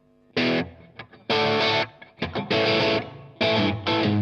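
Electric guitar through a distorted Marshall amp plays loud, sustained power chords in bursts separated by short pauses and a few quick notes.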